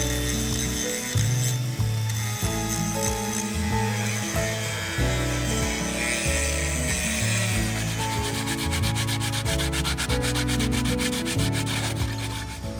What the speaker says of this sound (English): we're gonna go ahead and sand this down